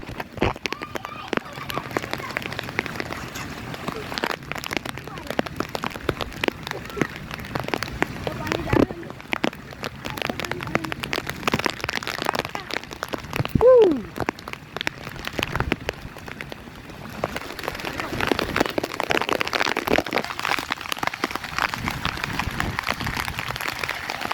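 Heavy rain pouring outdoors during a walk, a loud steady hiss of drops on surfaces with footsteps and brief voices and movement mixed in throughout.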